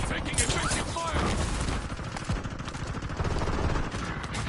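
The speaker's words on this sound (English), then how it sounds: "Taking effective fire." Dense, sustained gunfire roars through a Call of Duty: Warzone fight, shots overlapping continuously with no break, while a voice speaks underneath.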